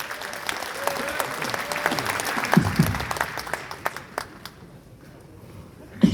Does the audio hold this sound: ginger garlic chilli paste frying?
no